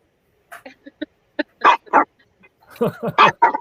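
A dog gives a string of short barks and yips, sparse at first and then clustering into louder, closer barks toward the end, with no talk over them.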